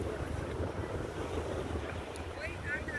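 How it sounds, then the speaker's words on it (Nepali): Strong wind buffets the microphone over a constant roar of high waves breaking at the shore, loud and unbroken throughout. "अलिक हावा ज्यादा, छाल ज्यादा आएको रहेछ"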